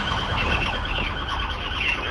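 Emergency vehicle sirens wail continuously amid dense traffic noise in the video game Warzone 3, loud and close, with no pauses.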